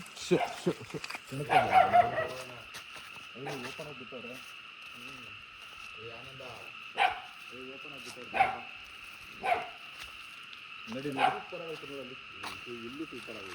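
Dogs bark in short scattered bursts at night near a homestay in Madikeri, some barks close and sharp, under ongoing conversation and a steady background hum.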